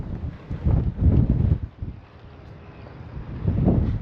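Gusty wind buffets the microphone on a hilltop at a castle, rising and falling in loud, rumbling surges for the whole stretch.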